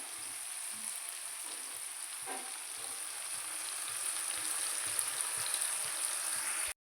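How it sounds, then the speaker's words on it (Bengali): Onions frying in a pan until reddish-brown, a continuous soft sizzle with a few faint stirring scrapes, steady and close throughout. "পেঁয়াজটা লাল লাল করে আমরা এখানে ভেজে নেব"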